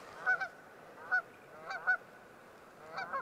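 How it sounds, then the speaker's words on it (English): Geese or ducks honk near the Merced River, several short nasal calls in irregular bursts, fairly faint and heard against quiet outdoor background. "I don't know if those are geese or ducks"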